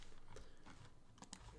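Typing on a computer keyboard, a few quick soft key clicks in short bursts, close but faint.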